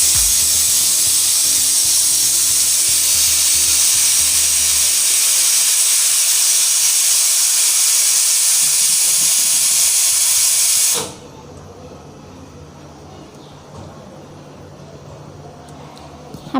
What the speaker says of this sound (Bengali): দেখুন আমার পানিটা বলক চলে এসেছে